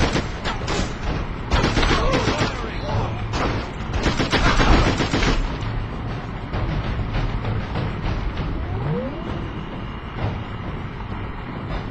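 Shotgun blasts and other gunfire ring out in a SpyHunter Nowhere To Run game firefight, with loud bursts clustered near the start and weaker shots later over a steady battle din and some background voice.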